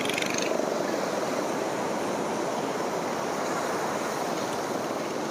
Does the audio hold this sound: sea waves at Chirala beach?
yes